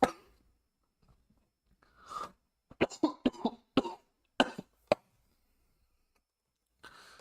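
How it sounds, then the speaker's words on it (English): A close-up coughing fit: a few short coughs, then a rapid cluster of harsh, dry coughs, then a last quieter bout after a pause. "I've had a bit of a coughing fit recently."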